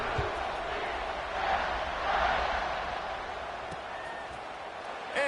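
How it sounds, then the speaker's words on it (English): Football stadium crowd at a Kansas State game, a broad steady roar of many voices buzzing after a score, swelling slightly in waves and continuing throughout with no clear single voices standing out. "this crowd is buzzing after that last score"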